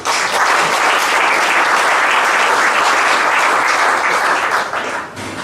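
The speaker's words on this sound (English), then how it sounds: "big round of applause for those as well, please" Loud, sustained applause from an audience at a golf club captain's prize presentation night, steady dense clapping that tapers slightly at the end.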